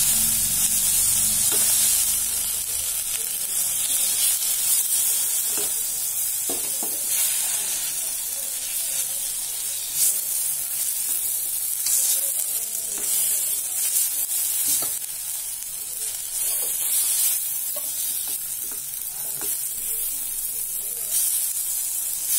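Two chopped medium tomatoes sauté in a pan with a steady close sizzle and hiss, broken by repeated soft scraping and pressing strokes as they are smashed.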